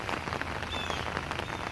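Steady rain pours down in a garden during a storm, a dense, even patter on surfaces filling the whole stretch with no voices.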